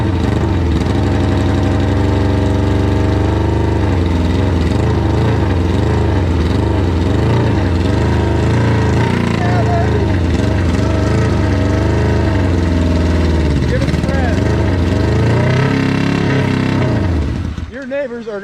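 A 600cc donor motorcycle engine, pulled for a street kart build, running loud and close with a steady rumbling idle that rises and falls with throttle blips before cutting out near the end; voices talk faintly underneath.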